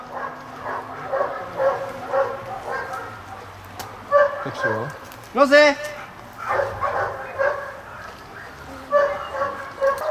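A police dog barks and yips repeatedly during a detention exercise at a working-dog memorial competition, sharp close barks in bursts between commands shouted by a handler and other voices.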